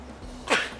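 A child gives a single short, sharp sneeze demonstration in a school lesson on cough and sneeze etiquette, a quick burst rising out of quiet background.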